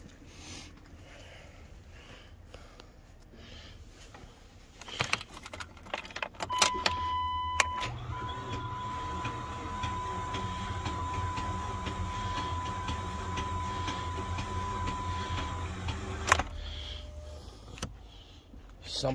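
A 2.7-litre Dodge Intrepid that sat unused for nine years cranks over after quiet clicks and rattles, the starter grinding steadily for several seconds under a whining tone before cutting off, then brief clunks follow.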